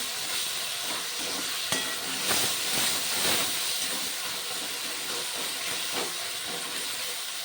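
Tomato and onion cook in a pan while a spatula mashes them, giving a continuous sizzle and hiss with soft scraping and pressing strokes throughout.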